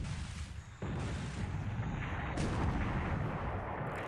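Heavy naval gunfire from 8-inch guns in the War in the Pacific game, loud deep booms at extreme long range, one sharp onset followed by sustained rumbling blasts and a second surge, with no talk.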